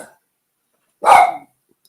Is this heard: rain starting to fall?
no